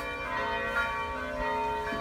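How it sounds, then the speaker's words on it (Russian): Church bells ringing loudly and close, their rich overlapping tones sustained and blending into a continuous resonant peal throughout. "колокольный звон"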